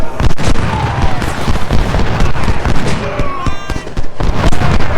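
Heavy artillery and musket fire in Ultimate General: Civil War at the Antietam battlefield: a loud, dense barrage of overlapping booms and crackling shots with no letup, a voice speaking briefly under the din.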